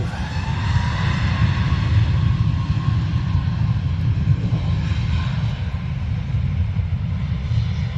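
A steady, loud roar from an Icelandair airliner landing at Dublin Airport, its jet engine rumble holding constant for the whole stretch with no talk over it.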